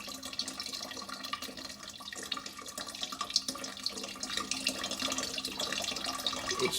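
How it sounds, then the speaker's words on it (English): Water runs steadily in a replica of Ctesibius's ancient water clock, a continuous soft trickling and splashing flow with faint drips, moderately quiet and unbroken for several seconds with no voices. "a replica of one of his earliest water clocks"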